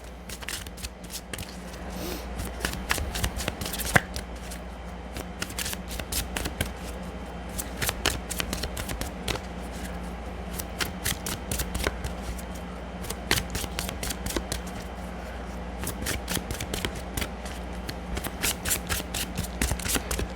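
Angel Medicine Oracle cards being shuffled by hand, giving long stretches of close, crisp riffling and slapping card sounds with brief pauses between bursts, without talk.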